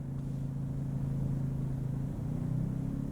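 A RYOBI 2300 remote electric start inverter generator engine hums steadily close by, its low drone shifting in pitch as it revs up partway through.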